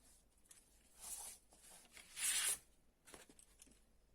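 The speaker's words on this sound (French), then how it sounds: "À l'aide de notre outil touche à tout et de notre bille de marquage, nous allons tracer des diagonales." A marking ball tool scratches diagonal lines across paper, soft raspy strokes in a few short bursts, faint and close in a quiet room, with no talk.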